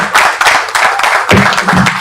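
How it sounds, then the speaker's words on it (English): A round of applause from an audience at a TV launch event in Nigeria, dense clapping for about two seconds, with a brief dip before it swells again. "Let us continue with the organic round of applause."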